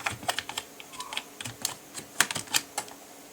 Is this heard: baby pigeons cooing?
no